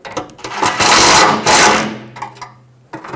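Power tool snugging down a bolt on a 2005–2015 Toyota Tacoma power steering rack and pinion: a loud, close, harsh burst of about a second, a brief pause, then another buzzing run that tapers off.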